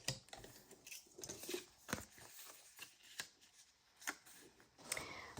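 Scissors snip through cardstock in a series of short, crisp cuts with brief pauses between them, close and fairly quiet, with no voices.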